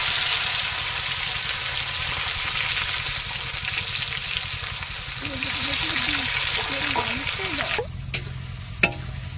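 Onions sizzling in hot oil in a village kitchen, a continuous bright frying hiss with occasional stirring, then a couple of sharp knocks near the end.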